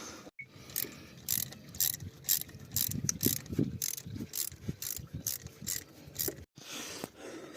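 A ratchet clicks in quick, regular bursts while a hose clamp and Torx bolts are loosened to remove a car's thermostat, with the metallic ticking close and fairly quiet.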